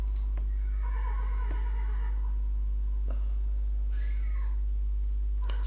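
A horse neighs in two whinnies, a long one early and a shorter one later, over a steady low hum and occasional soft knocks, with no talking.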